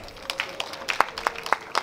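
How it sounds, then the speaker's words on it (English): Audience applause at a university student council Women's Week event in 2019, heard as a light, sparse scatter of individual claps in a hall with a faint tone underneath. "A round of applause."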